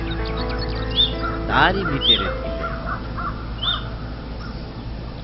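Animated crows caw in a big banyan tree in a forest, several sharp calls at irregular moments beneath a narrator's voice.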